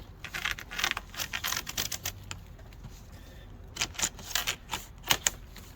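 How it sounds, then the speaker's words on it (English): Vinyl siding being snapped into place along its top edge with a small siding zip tool on a house during dryer duct and trim repair work; a run of sharp clicks and snaps in irregular bursts, close and fairly loud. "now I'm going to finish snapping in the top using this little zip tool"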